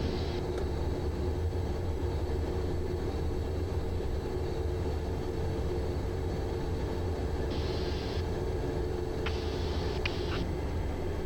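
Cockpit of a Phenom 300E jet just after takeoff, with a constant low engine and airflow roar and a few brief higher-pitched tones partway through.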